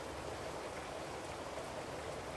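Steady rain pours down as an ambience effect, a dense even hiss with no breaks, no thunder and no voices, filling the whole short stretch.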